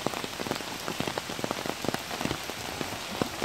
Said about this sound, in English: as you can tell, it is raining